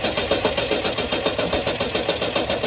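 Engine of a 1971 Ford Maverick barn find cranking over: a fast, steady rhythmic churning pulse, loud and close, with no voices over it.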